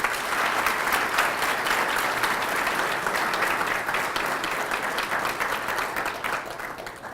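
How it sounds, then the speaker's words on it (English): A crowd applauds at a community event, a broad continuous wash of clapping from many hands that stays steady and full throughout, fading only slightly at the end. "please join me in a round of applause for everybody that went into producing this outstanding event."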